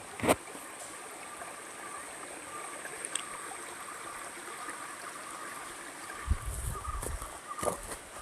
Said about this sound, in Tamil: அப்படியே தண்ணி போயிட்டுருக்கு.